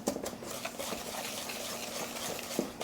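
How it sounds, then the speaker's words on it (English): A small whisk beating egg yolks in a bowl for fudge brownies, a quiet, continuous rapid stirring with faint clicks against the bowl. "So I have a little whisk here. Break up my yolks and get this as smooth as possible."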